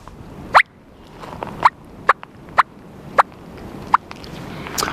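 A turkey call imitates a bubble cluck, giving about six sharp, popping clucks spaced unevenly, close and distinct against quiet background.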